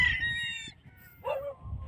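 At a game farm packed with chickens and roosters, a short high crow-like call sounds first, then a brief, lower squawking cluck follows, over soft background noise.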